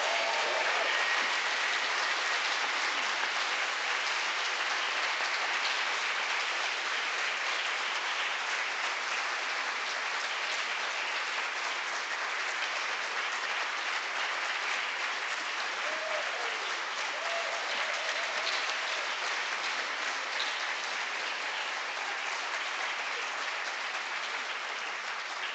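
An audience at a community education foundation breakfast event gives sustained applause, a steady wash of many hands clapping at even loudness throughout, with no talk over it.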